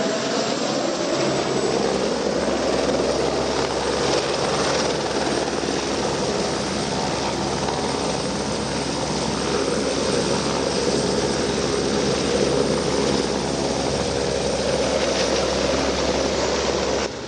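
Two regional firefighting helicopters work near Monfalcone, drawing water from a nearby canal. Their steady, loud rotor and engine roar fills the scene without a break, with a constant low drone and broadband wash and no talk.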